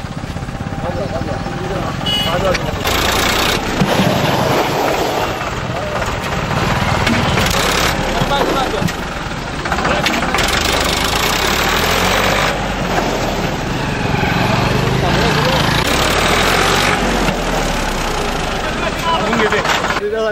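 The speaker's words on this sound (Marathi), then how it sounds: "आपण आज एक ट्रॅक्टरची ट्रायलही घेऊन पाहूया की कशा प्रकारे त्या ब्रेक ऑइलमुळे ट्रॅक्टर जागेवर थांबते" A tractor engine runs steadily during a brake oil trial in Jalgaon, a continuous close mechanical drone that holds for the whole stretch under people talking.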